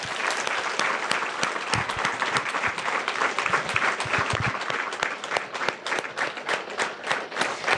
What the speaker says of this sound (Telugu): ఆ పిల్లలకి నిజంగా ఒకసారి గట్టిగా చప్పట్లు